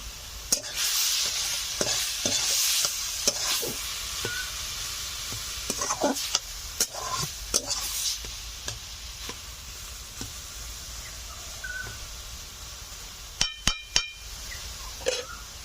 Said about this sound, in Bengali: শাকগুলোকে আস্তে আস্তে ভেজে নেব